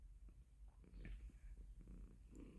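A cat named Ash purrs softly and steadily close by, a low rhythmic rumble in a quiet room.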